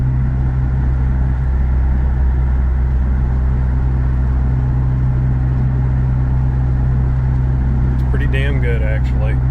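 A 2021 Honda Civic Type R with a Megan Racing exhaust cruises through town in fifth gear, a steady low engine drone and road rumble filling the cabin, with a voice talking briefly near the end.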